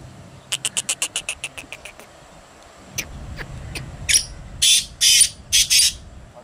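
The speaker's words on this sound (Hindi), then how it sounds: "इसका नाम है लाटू तितर पिंजरे में माशाल्लाह अच्छी बुलारी करता है" A caged Sindhi-Chinki cross grey partridge calls outdoors, starting with a fast series of rapid clicking notes that fade out. After that come several loud, harsh, ringing bursts of call, with faint traffic rumble behind.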